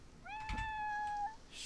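A cat meows once in The Sims 4, a long, clear, rising-then-level cry that stretches over a second before fading, set over soft in-game ambience.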